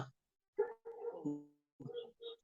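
A dog barks several times in short, separated bursts, fairly close and alone, with brief silences between barks.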